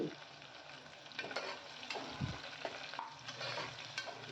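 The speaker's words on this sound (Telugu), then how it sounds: "పచ్చిమిరపకాయలు పూర్తిగా ఆయిల్లో మగ్గేంత వరకు వేయించుకోవాలి" Green chillies frying in oil for a bhindi pulusu curry, a soft continuous sizzle with occasional scrapes and stirs of a spoon, heard alone without talk.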